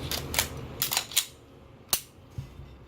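Dry-fire trigger pulls on an empty, unloaded Glock 19 pistol give faint, sharp mechanical clicks, several in quick bursts and then two isolated snaps, close and quiet in a still room.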